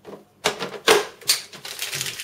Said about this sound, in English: the till works, the receipt is issued and the cash drawer fires